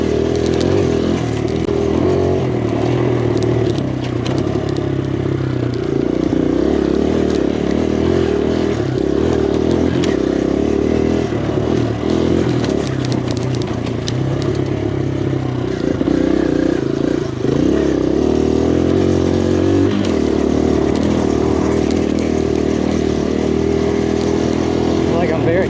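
A 2023 Kawasaki KLX140RF dirt bike ridden flat out on trails, its small single-cylinder engine droning loud and steady up close, rising and falling with throttle changes, with clatter and scraping from the terrain.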